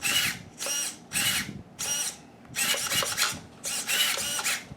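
Whirring bursts of a new servo turning the steering on a Traxxas Slash 2WD RC truck, about six short high-pitched buzzes in an irregular back-and-forth rhythm, close up and alone.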